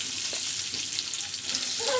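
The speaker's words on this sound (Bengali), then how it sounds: "আমার আলুগুলো ভাজা হয়ে গিয়েছে, এখন আমি কাঁচামরিচ গুলো দিয়ে দিব সব।" Potatoes fry in a pan for an eggplant and tengra fish curry, giving a steady, close, even sizzle and hiss throughout, with no talking.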